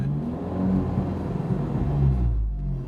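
A red Abarth F595 Pista fitted with a Record Monza exhaust revs close by with a deep, raspy rumble that rises and swells in short bursts, heard alone without talk.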